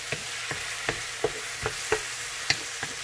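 A utensil stirs a pan of sautéed eggplant with sardines (ginisang talong sa sardinas), giving about eight distinct scraping clacks at a steady rhythm over a faint sizzle, close and fairly quiet.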